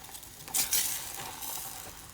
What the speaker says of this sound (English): What you're doing is just mixing it in, incorporating it all in to the cream.